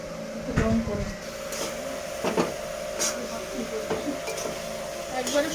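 Mixed vegetables stir-frying in a pan for fried rice, with a soft steady sizzle, scattered scrapes and clinks of a utensil against the pan, and a low background hum.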